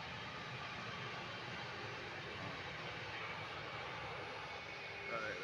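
Steady broadband roar of an airplane landing at SMB II airport in Palembang, a constant engine and air rush heard from a distance, loud and unchanging for the whole span.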